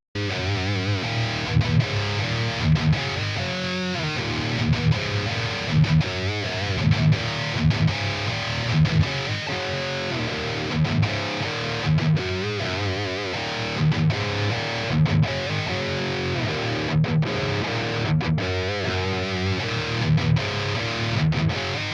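Heavily distorted metalcore guitar tone from an amp simulator, with chugging palm-muted rhythms and steady drums, loud and dense from start to finish.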